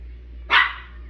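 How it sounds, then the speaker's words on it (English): A single sharp bark from a small mixed Yorkie dog, close and fairly loud, rising briefly and fading out over a quiet background hum. "I got my little dog barking here."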